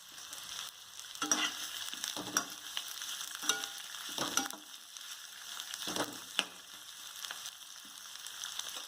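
Onions sizzle and fry in a pan with salt, with intermittent scraping and stirring clatters from a utensil, close and fairly loud, no voices.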